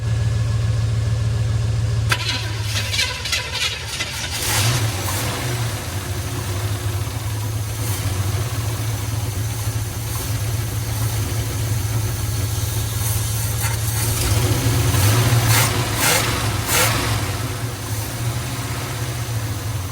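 Small block Chevy V8 in a 1970 Chevrolet C10, a steady low idle rumble with a couple of brief throttle blips and mechanical clatter, close and loud, no voices.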